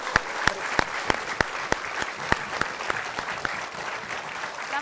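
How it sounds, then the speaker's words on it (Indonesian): Studio audience applause on a television variety show, a steady wash of many hands clapping, with a few louder, sharper claps standing out at regular intervals throughout. "Kita kasih tepuk tangan buat Patri."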